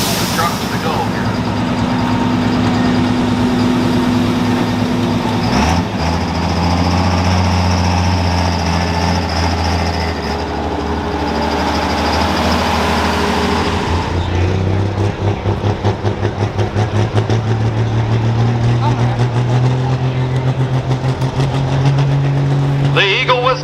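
A diesel pickup truck at an outdoor truck pull in Eagle, Wisconsin, loud and steady: a deep engine drone with rising and falling revs, and an announcer talking over it.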